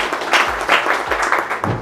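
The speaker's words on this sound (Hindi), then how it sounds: "तो चलिए इनके लिए एक बार जोरदार ताली।" Audience applause for students at an AC, fridge and washing machine PCB repair institute in India, a brief burst of scattered clapping.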